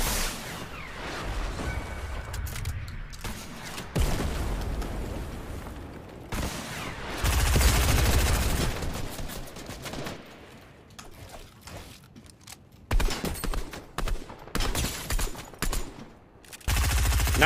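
Gunfire bursts in Fortnite Season 3 around the flare gun, loud clustered shots and booms with gaps between them, varying in density over a noisy game mix, with no talk.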